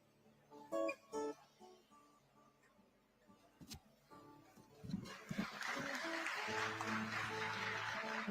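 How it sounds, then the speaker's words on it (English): Audience applause at an inauguration ceremony for a Model Career Center at ITI Palghar, during a National Startup Day event in Mumbai, swelling into sustained clapping in the second half after quieter tonal sounds at the start. "A round of applause."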